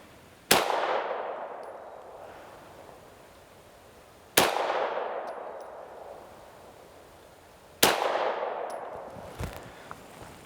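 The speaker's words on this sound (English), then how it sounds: "I'm going to shoot bottom right hand corner." Three sharp CZ P-07 pistol shots fired at a target, spaced a few seconds apart, each a loud crack followed by a long ringing decay, with a faint metallic clink near the end.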